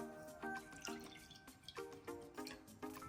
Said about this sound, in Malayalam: അത് നമുക്ക് ഒന്നുകൂടെ അരിച്ചെടുക്കാം.